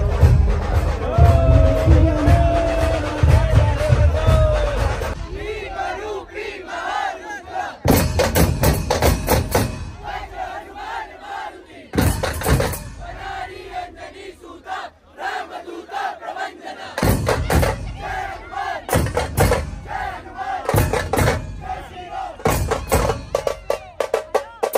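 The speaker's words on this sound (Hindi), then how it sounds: "कितनी भीड़ है यहाँ।" A dense crowd of pilgrims at the Badrinath temple opening in 2024 roars and chants in loud, repeated surges of collective shouting, with thumps and steady background crowd noise throughout.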